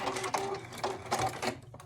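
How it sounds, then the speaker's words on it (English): A vintage Singer 15-88 sewing machine stitches along the edges of faux leather pants with a close, rhythmic mechanical whirring chatter in several quick runs. "I'm just sewing it down along the edges"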